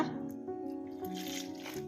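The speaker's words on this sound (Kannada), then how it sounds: "ಇವಾಗ ನೀರು ಸೇರಿಸ್ಕೊಳ್ಳೋಣ" Water is poured into bajji batter for palak leaf and mirchi bajji: a faint, close, wet trickle and squish that runs for a couple of seconds in a quiet kitchen.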